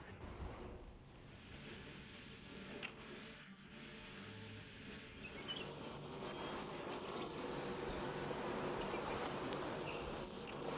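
A steady, dense buzzing of many honeybees crowded on brood frames of an open hive, continuous and close, with a low hum underneath throughout.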